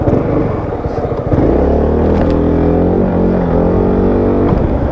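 A Yamaha XMAX 300 scooter with traction control switched off drones loud and close as it is ridden and accelerated, its engine note climbing steadily under wind noise.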